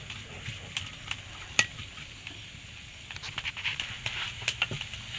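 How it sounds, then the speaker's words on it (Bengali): Onion, garlic and dried chilli fry in a little oil for dal bhuna, giving a soft, steady sizzle broken by clicks and scrapes of stirring, close by. "পেঁয়াজ রসুন আর শুকনো মরিচটা আমি একটু ভেজে নিচ্ছি লাল লাল করে"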